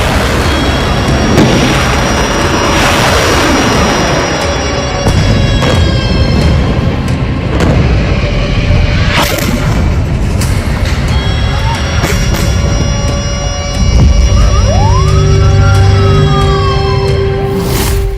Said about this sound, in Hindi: रॉकेट हमले